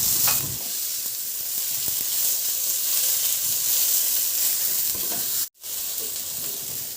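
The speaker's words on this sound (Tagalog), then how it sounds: "Magpainit na rin ako ng mantika at igisa ko na yung bawang. Igisa ko na rin yung sibuyas." Garlic and onion sauté in hot oil for Filipino ginisang ampalaya, giving a steady, close sizzle and hiss throughout, with a brief sharp break in the sound near the end.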